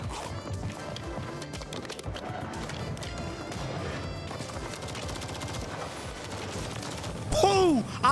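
Rapid gunfire rattles through a Call of Duty Warzone gunfight on the Urzikstan map, dense repeated shots and impacts at close range, ending in a brief louder burst with a sweeping tone.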